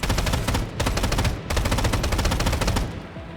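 Rapid automatic gunfire in the video game Strinova rattles in three loud sustained bursts with brief gaps between them, sounding close and filling the moment without speech.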